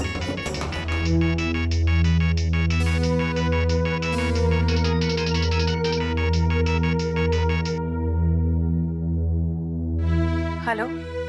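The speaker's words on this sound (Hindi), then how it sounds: "जरा फोन करेंगे कृतिका को प्लीज?" A loud electronic ringtone plays a repeating melodic pattern for several seconds, then fades into a brief wavering tone.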